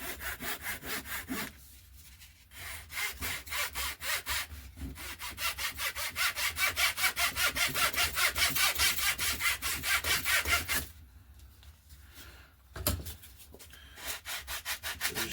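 A hand saw cuts through part of a balsa-built RC Coyote glider fuselage in steady, rapid back-and-forth strokes. The rasping is close and loud, with short pauses before sawing resumes.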